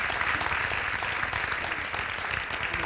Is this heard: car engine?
no